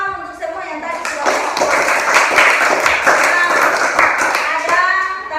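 A teacher and class in a classroom break into rapid hand clapping, a dense patter of claps building after a spoken lead-in and holding steady before tapering, with voices audible around it.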